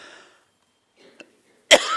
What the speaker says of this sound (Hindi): जब खांसी हो तो भगवान का नाम लो।